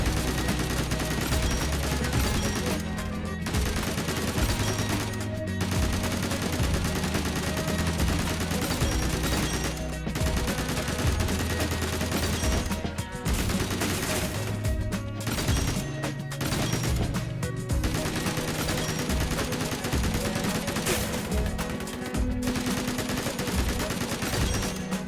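Rapid bursts of DMR gunfire from a first-person shooter game fill the whole stretch, loud and dense with overlapping shots, brief gaps and in-game combat noise throughout.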